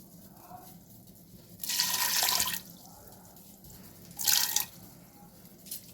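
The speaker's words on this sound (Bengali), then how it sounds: "একটু জল দিয়ে দেবো।" Water poured into a cooking pot to boil chicken for a salad, heard as two short splashing bursts of flowing liquid separated by quiet kitchen background, the first longer than the second.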